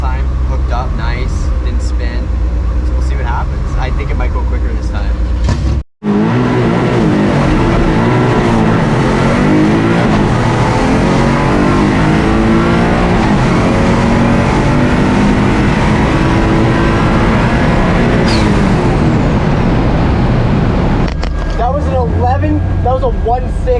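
A Mazda MX3 drag car launches at full throttle from launch control near 4,000 RPM with the clutch eased out, its engine roaring loud and close and climbing steadily, with a brief dropout early on and talk in the car.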